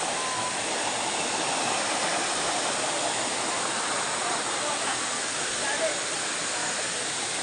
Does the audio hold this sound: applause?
no